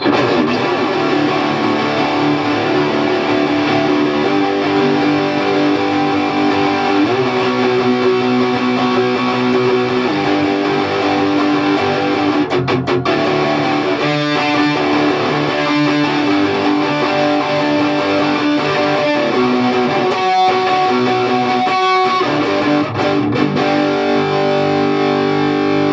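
A Gretsch Stump-O-Matic electric guitar, a signature model, plays a heavily distorted riff: loud, dense, driving chords with brief stops and stabs, continuous and without talk.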